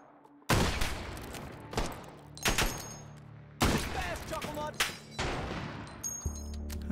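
Gunshots in the VR shooter H3VR, a handful of sharp, loud reports spaced a second or so apart, each trailing into a short echoing tail, with brief clicks and handling noises between shots.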